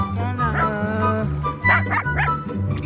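A dog barks repeatedly at close range in a rhythmic, tonal series, with yelps and whimpering mixed in and people talking nearby on an island outing.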